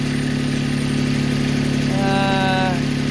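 A Massey Ferguson GC2310 compact tractor engine idles steadily up close, a continuous low throb joined near the end by a brief higher whine.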